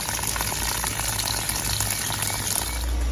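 Water gushes steadily through a flush-kit hose into an Evinrude Johnson outboard motor, a constant broadband rush with a low hum underneath, close and loud throughout with no talk.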